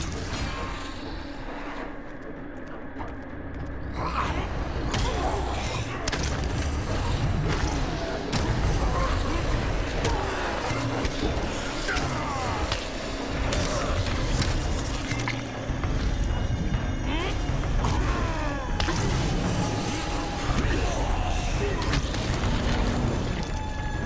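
Hack-and-slash combat from Diablo 3, a barbarian swinging axes against cultists, with dense, continuous thuds, slams and impacts over loud game music and effects, filling the scene without pause; speech is mixed in.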